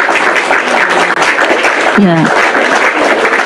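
Audience applause fills a talk hall during a religious discussion event, a steady wash of clapping that carries right through the short clip while a voice speaks briefly over it.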